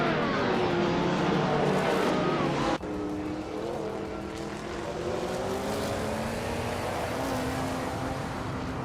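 Race cars, among them a 1995 Chevrolet Camaro IMSA, roar past in a close pack, with loud sustained engine drone, a sudden shift in pitch partway through, and rising revs afterward, and no talk.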